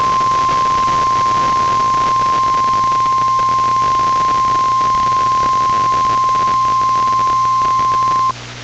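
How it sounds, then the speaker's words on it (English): NOAA Weather Radio warning alarm during a weekly emergency alert system test: a single loud, unbroken tone at one fixed pitch holding for about eight seconds over a low background hum, then cutting off. "This is a test of the emergency alert system and NOAA Weather Radio's warning alarm."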